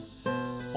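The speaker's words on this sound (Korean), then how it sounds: "매미가 엄청나게 시끄럽게 울어대고 있어요" A dense, steady buzzing of cicadas in a wooded park fills the short clip, loud and continuous with a brief rise at the end.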